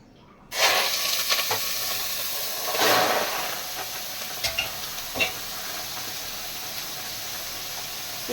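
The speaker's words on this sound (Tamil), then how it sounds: "நல்லா வதக்கிட்டு இஞ்சி பூண்டு பேஸ்ட் போட்டு வதக்கிடணும்" Goat intestines sautéing with ginger garlic paste, a loud hissing sizzle erupting suddenly from silence, swelling once, then settling into a steady fry with a few scraping stirs, close and without talk.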